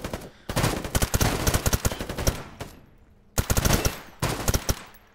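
Rapid automatic fire from an MP7 submachine gun in a video game, loud close bursts of dense shots broken by short pauses, with no talking.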